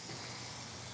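Spray paint hisses steadily in a short, even burst while being tested before coating a Michael Myers mask, close and fairly quiet with no voices.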